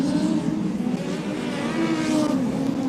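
Midget speedcars race wheel to wheel through the turns at Archerfield Speedway, their engines a loud, continuous, rasping drone that swells slightly as the pack passes.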